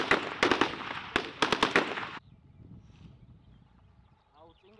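Gunfire from foreign weapons such as a PKM and AK rings out on a military shooting range, a rapid string of sharp, loud cracks and short bursts for about two seconds before fading into quiet outdoor ambience with a distant voice.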